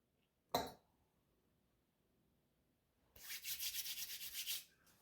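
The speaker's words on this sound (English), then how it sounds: "just rub your hands together" After a single soft knock and a pause, two hands rub briskly together in a quick run of rhythmic, close-up strokes lasting over a second, then stop.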